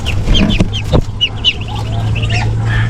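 A hen clucks repeatedly in short, agitated bursts close by on a backyard farm, with a steady low hum underneath.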